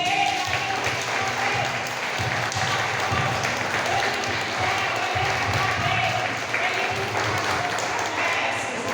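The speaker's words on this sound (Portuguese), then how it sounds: "Irmãos, quando a gente vai dar uma salva de palmas para Jesus, a gente dá acima da nossa cabeça" A church congregation at a men's service claps hands above their heads, a dense, continuous wash of applause filling the room with a voice speaking over it.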